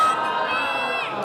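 A crowd at a religious gathering, a jalsa in Multan, shouts slogans together in a loud, sustained burst of massed voices.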